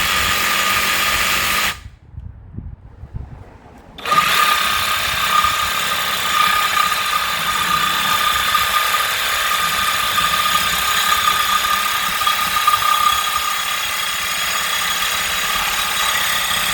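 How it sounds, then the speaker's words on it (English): Parkside PSSAP 20V cordless sabre saw cutting, a loud, close, continuous motor whine with a buzzing reciprocating edge that drops out for about two seconds and then resumes steadily. "Whether you're cutting wood, metal or plastic, the cordless design offers excellent mobility on any job site."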